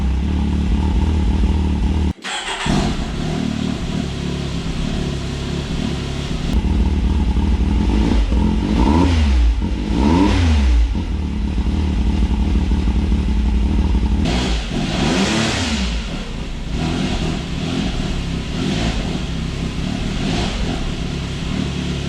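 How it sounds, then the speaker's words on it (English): A 2021 Can-Am Maverick X3 MAX X DS Turbo RR side-by-side on its stock exhaust idles loudly up close, then is blipped through several sharp rev rises and falls, with a clunk near the start. "I'll let you guys hear the stock exhaust on it, which doesn't sound terrible."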